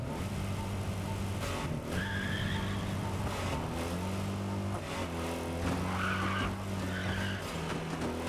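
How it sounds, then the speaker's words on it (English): Blow-off valve hiss from a turbocharged car in the racing game Test Drive Unlimited Solar Crown, heard as short bright bursts between gear changes over a steady loud engine drone and tire noise, with no talking. "I like the blow-off valve sound."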